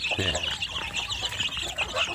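Young kampung (free-range village) chicks cluck and peep close by in a steady stream of short, bright calls, with a voice briefly audible underneath.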